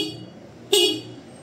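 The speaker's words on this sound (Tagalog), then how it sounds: "So, ganyan kalakas yung busina niya." Horn of an FKM Ranger 150 motorcycle gives one short, sharp toot, loud and close, in an otherwise quiet setting.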